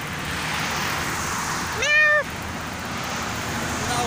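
A single clear cat meow, drawn out and rising then falling, heard over a constant background hum like traffic or an engine, on the road toward Baguio, Philippines.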